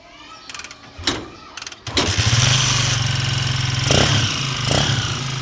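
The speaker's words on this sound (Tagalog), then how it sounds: "Subukan natin itong paandarin ngayon. May battery siya." A Honda 155 motorcycle fitted with a battery, several short cranking bursts and clicks, then the engine catches and settles into a loud, steady running note with slight revs, close by.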